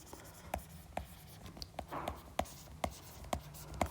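Pen writing out the numbers of a class 10 real-numbers HCF problem, with short scratchy strokes tapping down at a steady rhythm about twice a second, close and fairly quiet, no talk.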